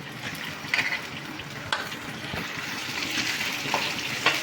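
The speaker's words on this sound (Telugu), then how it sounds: "కడిగి శుభ్రం చేసుకున్న మునగాకు ఇది కూడా ఫ్రై చేసుకోవాలి, వేయించుకోవాలి." Washed moringa leaves fry in hot oil with a steady close sizzle, broken by a few sharp crackles and scrapes as they are stirred in the pan.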